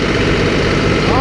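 A tractor engine runs steadily close by as it powers a house, a continuous loud rumbling idle with strong low-end vibration and no break across the whole moment.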